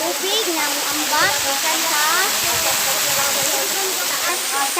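Steady, full roar of a waterfall at a mountain water source in Barangay Matampa, Salay, Misamis Oriental, with someone talking over the continuous rushing water throughout.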